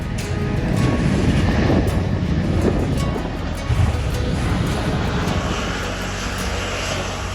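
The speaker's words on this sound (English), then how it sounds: "And here's our ride, November 523 Alpha Sierra, another Alaska Airlines Boeing 737-800, delivered to Alaska in 2009." An Alaska Airlines Boeing 737-800 jet arriving at a small airport gives a steady, broad, rushing engine roar with wind-like hiss, fairly loud and unbroken, with no talking.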